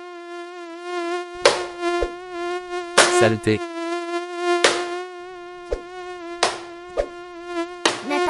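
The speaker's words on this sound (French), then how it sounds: "il y a un moustique qui m'agresse" A mosquito whines in a steady, close, high buzz that carries through the whole stretch, broken by several sharp slaps and thumps as someone swats at it. A single word is muttered.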